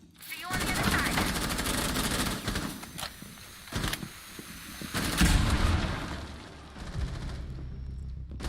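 Automatic and single-shot gunfire crackles through a busy team shooter match in a pool-round tournament, with friendly fire erupting in dense bursts and booming hits, layered under a commentator's continuous voice.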